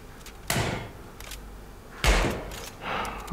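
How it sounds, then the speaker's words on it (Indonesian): A door opened during an Indonesian bodyguard roleplay scene, with a few distinct close clunks and a solid thud as it moves and bumps, separated by short quiet gaps. "Aku coba buka pintu."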